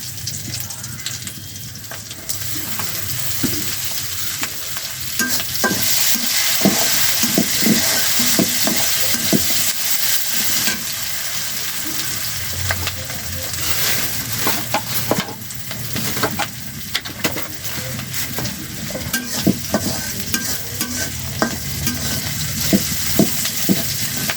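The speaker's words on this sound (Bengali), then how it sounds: "ভাজা ভাজা হয়ে আসতেছে, তো কাঁচামরিচ দিয়ে দিলাম" Onions and green chilies frying in a pan with a little salt, giving a continuous loud sizzle broken by frequent scraping strokes of a spatula stirring throughout.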